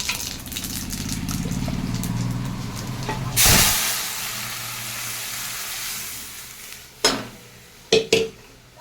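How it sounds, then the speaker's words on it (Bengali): Dal is tempered with dried chillies and radhuni in hot oil: a loud burst of hissing sizzle, then a quieter steady fry, followed by a few sharp clanks of a utensil against the pot. "এই তেলেই ডাল ফোড়ন দিয়ে দেবো"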